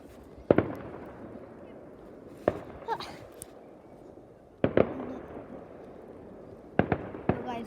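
New Year fireworks in Hallstavik, Sweden, bursting in sharp pops and cracks, singly or in close pairs, every couple of seconds, moderately distant, over a faint background hiss.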